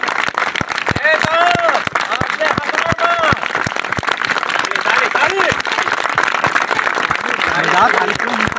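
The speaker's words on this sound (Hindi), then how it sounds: "ताली बजाओ ताली ताली ताली" Crowd at an outdoor village magic show claps along in sharp, regular beats under steady, loud talking and background chatter, the clapping continuing throughout.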